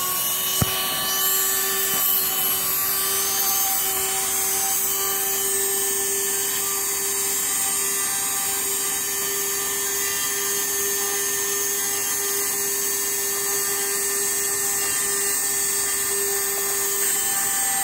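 An MSC engraver etching a name tag gives a steady, high, whining motor hum that holds evenly for about eighteen seconds, with a faint tick near the start and no talking.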